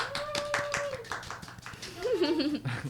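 Scattered hand clapping from a small group at a podcast-style talk on digital communication, mixed with laughter and overlapping voices, fairly close and lively.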